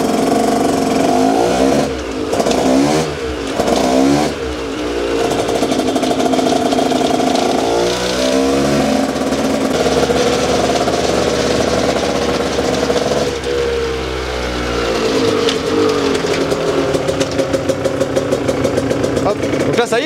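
A motorcycle engine on a power dynamometer revving hard in repeated climbing sweeps, loud and close with rising and falling engine pitch, ending in a rapid pulsing idle, with someone talking over it.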